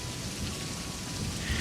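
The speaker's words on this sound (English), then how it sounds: "As the rain poured down in sheets, lightning struck around me every few moments, and the thunder was almost constant." A lakeside thunderstorm with rain pouring down in sheets and near-constant thunder: a dense, steady hiss of heavy rain over a continuous low rumble, loud and unbroken for the whole short stretch, with no voices.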